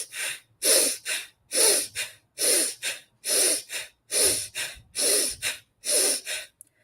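Forceful Bhastrika breathing exercise: about ten sharp, loud, evenly spaced breaths, each a quick pumped inhale and exhale driven from the belly, in a steady rhythm with no talking.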